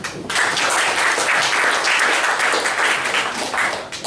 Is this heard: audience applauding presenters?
yes